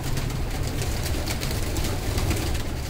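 Pigeons coo on a rooftop, soft low throaty calls repeating under a steady bed of background noise, with no talking.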